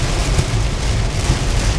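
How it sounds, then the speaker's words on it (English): Very heavy rain from Tropical Storm Emily pounds down in a dense, steady roar with low rumbling wind or thunder underneath, loud and continuous with no one speaking. "You can see those bands of very, very heavy rain"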